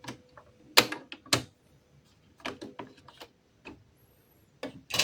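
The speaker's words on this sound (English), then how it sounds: "Carefully open the carriage cover." An Epson L3210-series printer's carriage cover being opened, a series of sharp plastic clicks and snaps in irregular bursts, close and dry, with quiet gaps between them.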